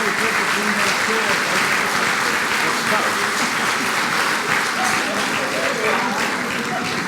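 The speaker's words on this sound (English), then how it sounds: "let's give one more round of applause for these incredible inductees" A large crowd at a hall of fame induction ceremony applauds loudly and continuously, a dense wash of clapping that stays steady throughout without letting up.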